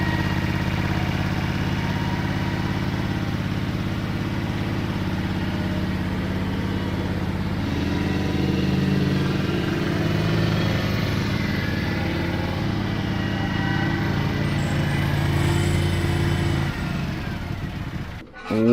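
An old ride-on mower left outside for years runs steadily at a loud, close idle, its engine drone holding for many seconds before cutting off abruptly at the end.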